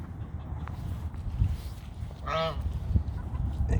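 A goose on a farm at feeding time, kept with chickens, gives a single short honk at mid distance amid rustling and footsteps, with no speech.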